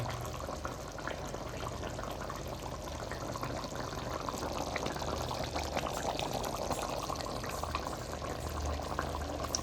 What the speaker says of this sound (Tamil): குழம்பு நல்லா கொதிச்சிருச்சுங்க